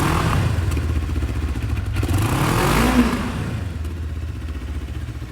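Moto Morini X-Cape 650 adventure tourer engine at cold start, a loud steady idle with mechanical clatter and a brief rev swelling near the middle, heard close with no talking.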